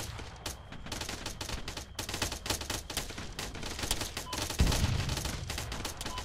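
Sustained, dense gunfire in the Arma military video game, with overlapping volleys and automatic bursts forming a loud, continuous barrage with no pauses.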